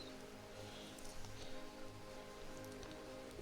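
Heavy rain pelts down as a steady, soft patter and hiss, faint and continuous throughout with no voices.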